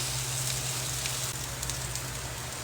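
Vegetables (spinach, mushroom, carrots) sautéing in sesame oil in a pan, giving a steady, dense sizzle that runs unbroken throughout at moderate loudness with no talk.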